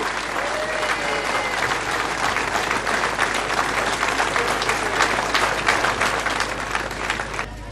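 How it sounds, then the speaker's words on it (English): Crowd applause for the winner of the final stage of the 2009 FBD Rás Tailteann cycling race, a steady, dense wash of clapping lasting throughout, with some voices mixed into the crowd. "Let's hear it for Jaan Kirsipuu"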